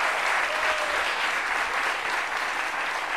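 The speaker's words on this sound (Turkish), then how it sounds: "Bir alkış alalım evet." Studio audience applause on a televised quiz show, a dense, steady wash of many hands clapping that holds at full strength for about three seconds, with no talking over it.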